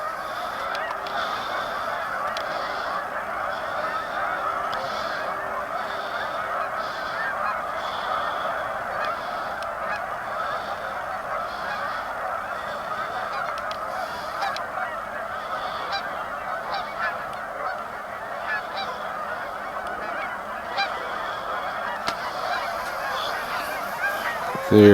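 A flock of geese honks steadily throughout, overlapping calls forming a continuous outdoor chorus with no talking.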